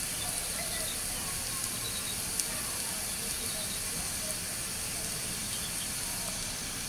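Whole cardamom pods, cloves and black peppercorns fry in hot oil for beef liver bhuna, giving a steady, dense, close sizzling hiss that runs unbroken throughout with no voice.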